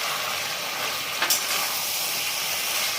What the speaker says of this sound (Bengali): এরপরে আমি মটরশুঁটিগুলো দিয়ে দিচ্ছি